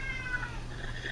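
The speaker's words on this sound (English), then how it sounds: "That's my cat in the background crying." A cat meows in the background, a drawn-out plaintive cry over a steady low hum, fairly faint and continuous.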